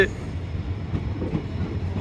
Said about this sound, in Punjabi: ਇਹ ਫਰੀਦਕੋਟ ਤੋਂ ਟ੍ਰੇਨ ਵਾਪਸ ਆਈ ਹੈ